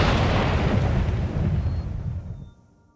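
Clear Skies dragon shout in Skyrim: a loud, booming, rushing blast that hits at once and then slowly fades away over a few seconds, with no talking.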